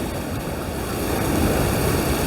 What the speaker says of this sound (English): some of these waves that are breaking are awesome